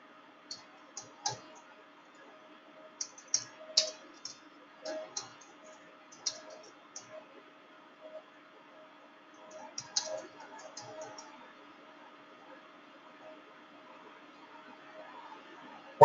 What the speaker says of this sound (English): We can type in the client information.